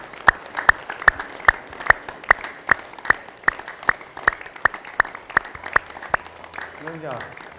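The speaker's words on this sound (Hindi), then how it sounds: "गो, ताली बजाएं।" A yoga group claps together in steady, evenly spaced beats, about two claps per second, sharp and fairly close, before a voice speaks near the end.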